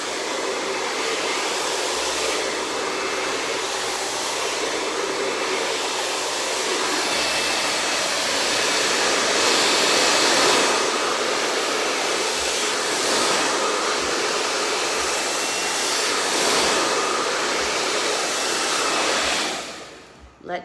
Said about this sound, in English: So you're gonna pick up your blow dryer and your Denman brush, which is great for getting root control.